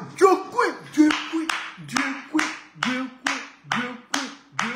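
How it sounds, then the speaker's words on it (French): Rhythmic group clapping for Diokou at an Ivorian political gathering, sharp regular claps in a steady beat close by, with voices mixed in between the claps. "applaudissez pour Diokou"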